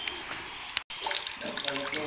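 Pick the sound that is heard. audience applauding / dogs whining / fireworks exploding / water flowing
water flowing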